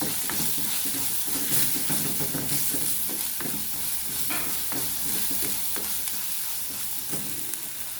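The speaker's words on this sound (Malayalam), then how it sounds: "ഇതിലേക്ക് കരിവേപ്പില ഇടുന്നു" Curry leaves hit hot oil in a pan for a mackerel and raw mango curry, giving a dense, loud, continuous sizzle with stirring scrapes and small pops throughout.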